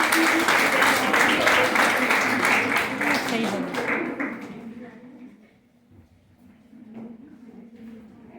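Audience at a college teacher's day celebration breaks into loud, dense applause for a poet called to the stage, which fades after a few seconds into quiet room noise with a voice beginning to speak.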